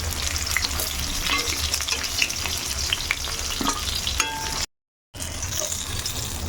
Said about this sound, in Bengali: তো এখন এই যে মাছগুলো ভাজবো।